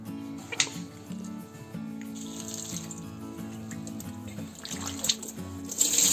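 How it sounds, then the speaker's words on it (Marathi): Eggplants being washed in water, with steady running water and splashing from a tap or sink alongside soft handling noises, continuous through the whole stretch. "वांगी आपली अशी चांगली धुवून घ्यायची"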